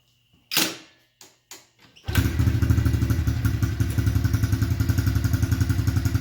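A 2015 Honda CRF110 dirt bike engine, running without choke after carburetor cleaning, sputters with a few brief bursts, then catches and holds a loud, steady high-revving drone with a rapid pulsing beat.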